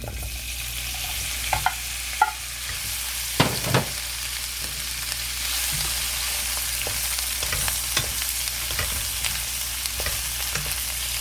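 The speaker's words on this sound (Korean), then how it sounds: "이제 요 오뎅 오뎅하고 고기를 먼저 볶아 줄게요." Fish cake and meat stir-frying in a pan for a Korean fish cake side dish, a steady close sizzle broken by scattered spatula scrapes and clicks, with no talking.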